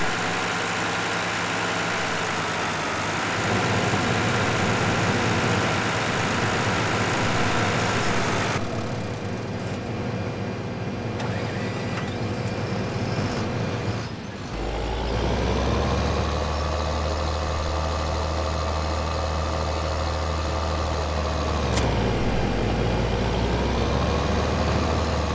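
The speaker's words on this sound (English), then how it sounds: "And we're going to move the other tractor out of the way." A tractor engine in Farming Simulator 2013 runs with a steady, loud, droning hum throughout. It settles into a deeper idle-like rumble partway through.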